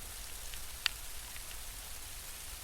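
Rain falling on a trail in fog during an overnight rainstorm, a soft steady hiss of drops with one brief sharper patter near the start, faint and continuous with no voices.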